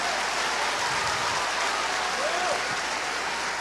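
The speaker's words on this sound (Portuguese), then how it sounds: "Se é para aplaudir, aplaude todo mundo junto com vontade" Church congregation applauding together, a steady, dense wash of clapping from many hands that holds evenly throughout, with no voices standing out.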